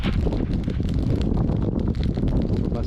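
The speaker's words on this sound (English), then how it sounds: "It's getting really windy and snow is falling" Strong wind in a snow squall buffets and roars continuously across the microphone, a dense, rushing noise with gusty rumbling and no clear pauses, in woods in central Canada.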